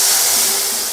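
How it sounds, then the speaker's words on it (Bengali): Boiled chana dal pours into a hot pan with spices, bursting into a loud, continuous hissing sizzle like rushing steam that barely fades over a second. "ডালটা ঢেলে দিলাম।"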